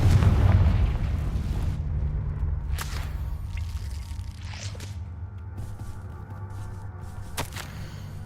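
A Confringo spell explodes in a Harry Potter video game, opening with a loud booming blast that rolls off into a rumbling tail, punctuated by a few sharp whip-like cracks.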